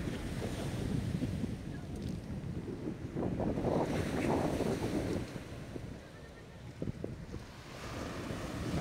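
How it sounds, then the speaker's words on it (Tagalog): Strong surf rolls onto the shore at Malagundi in Lobo, Batangas, a steady broadband wash of breaking waves mixed with gusty wind buffeting the microphone, loud and continuous with a brief lull near the end. "Dahil ang lakas ng alon."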